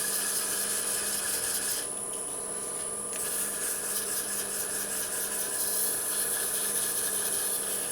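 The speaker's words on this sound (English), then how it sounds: "I think here we're going to start with some 220 real quick. I'm turning the lathe at about 800 RPMs." Sandpaper of 220 grit rubbing against a wooden bottle stopper spinning on a woodturning lathe at about 800 RPM gives a steady, close, continuous rasping hiss with no speech.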